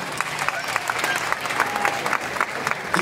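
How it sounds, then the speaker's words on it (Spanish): Audience at a sports-themed Mass applauding a honoured athlete, many hands clapping in a steady, fairly loud patter with faint crowd murmur beneath. "para que les digo un fuerte aplauso."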